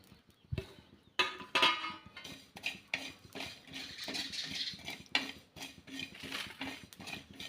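Peanuts roasting in a pan while a spoon stirs them, with clinks and scrapes against the metal in uneven bursts, close and alone without talk.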